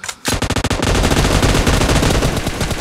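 Rapid automatic gunfire in a video game, a loud close burst after a brief pause, then a dense continuous stream of shots filling the clip.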